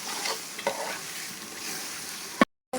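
Beef being stirred with chili powder in a pan over a clay stove, a continuous close sizzle with scraping stir strokes and a sharp clink just before a brief cut.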